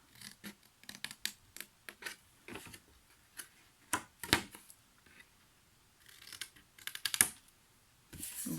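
Scissors snipping paper for a small Easter basket craft, a close series of crisp cuts in uneven bursts with short pauses between them.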